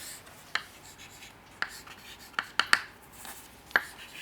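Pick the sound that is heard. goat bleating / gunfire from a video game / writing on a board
writing on a board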